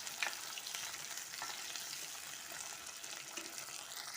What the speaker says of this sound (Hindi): हमने अपने आलूओं को 2 मिनट के लिए भून लिया है